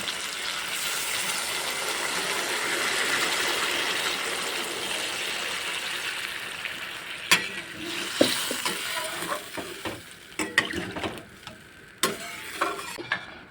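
Water poured onto fried elephant foot yam in a pan for a fish curry gravy: a strong hissing sizzle and gush that fades, followed by scattered clinks and stirring sounds.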